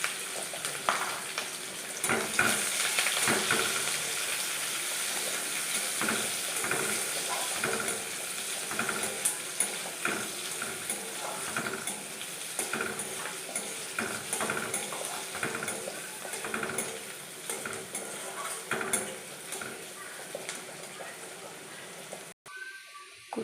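Chopped onion and garlic frying in a pan for a crab curry, a continuous crackling sizzle with stirring scrapes that runs steadily and close, ending abruptly near the end.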